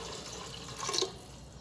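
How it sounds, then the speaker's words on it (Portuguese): Water poured from a tap into a pot of canjiquinha with pork ribs before pressure cooking: a soft, brief splashing trickle that swells and fades over steady faint background noise, with no voices. "eu vou colocar mais um pouquinho de água e vou pôr na pressão"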